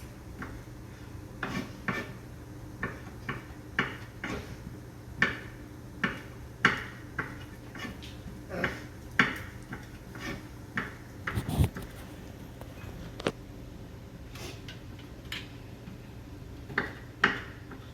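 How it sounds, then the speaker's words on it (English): A knife chops raw shrimp on a cutting board after the tails are pulled off, giving a string of sharp, close taps at an irregular but steady pace, with no one talking. "Just cut the shrimp up like this."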